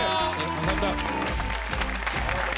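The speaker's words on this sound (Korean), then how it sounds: "뜨거운 격려의 박수를" A studio audience applauds on a televised singing competition show, sustained clapping mixed with a crowd murmur and background music underneath.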